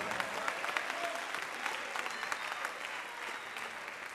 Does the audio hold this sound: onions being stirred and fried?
no